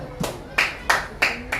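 Group of students in a classroom clapping, five quick separate claps in an uneven rhythm, close and fairly clear over a low background hum.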